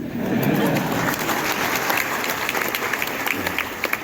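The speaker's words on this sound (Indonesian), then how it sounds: "Saya bisa tepuk tangan, tidak sebelah tangan." An audience applauds at a gathering at Al Zaytun, a steady dense wash of clapping that holds at an even level throughout, with murmuring voices mixed in underneath.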